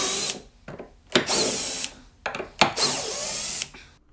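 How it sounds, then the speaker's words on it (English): A power drill drives 3/4-inch self-tapping screws into 2x4 wooden hinge blocks on a fold-away workstation table, in several short, loud whirring bursts separated by pauses. "I mount them down with the 3/4 inch self-tapping screws that came with the hinges"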